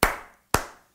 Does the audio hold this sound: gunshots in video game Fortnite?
no